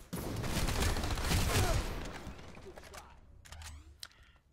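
A Piston shotgun fires indoors at the Vanu Archives in a video game: a loud, dense burst of gunfire and clatter that fades into quieter game noise, with a few sharp ticks near the end.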